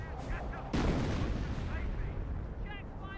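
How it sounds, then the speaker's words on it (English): A sharp, heavy report from a 25-pounder artillery gun in Company of Heroes, followed by rumbling battle noise and distant gunfire, with a commentator's voice faintly audible underneath. "Pretty sure that was 25 pounder."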